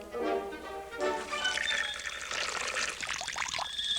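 Water churns and splashes in a sink, driven by mechanical special-effects devices to mimic frantic thrashing, a continuous loud sloshing and pouring that swells and surges over about four seconds.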